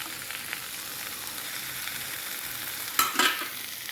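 Cut squid pieces sizzle softly in a pan with a steady frying hiss, then a brief clatter of stirring near the end.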